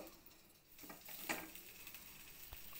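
Vegetables frying in a small amount of oil in a pan for a vegetarian khichuri meal, a soft steady sizzle with a few louder stirring scrapes, close and with no talking.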